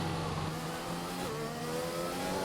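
Onboard engine of a McLaren Formula 1 car in a racing video game, at the Chinese circuit, holds a steady, loud, high-revving drone whose pitch climbs gradually, with no talk over it.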